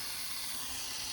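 A CO2 cartridge hisses steadily as it inflates a bicycle tire, a brief, continuous, close rush of gas with no talk.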